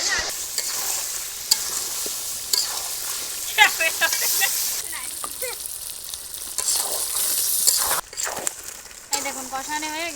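Meat and potatoes sauté and sizzle in a pan over a wood fire, with steady frying hiss, repeated scraping stirs and occasional crackles throughout, close and fairly loud; a voice speaks briefly in the background.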